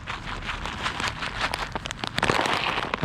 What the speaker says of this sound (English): It's been raining all day and storming all day.